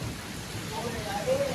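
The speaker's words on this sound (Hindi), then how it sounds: "आंगन में ओले पड़ने लगे" Hail and unseasonal rain fall on a courtyard beside a freshly cut wheat crop, a soft, steady hiss of drops on surfaces with faint scattered pattering throughout.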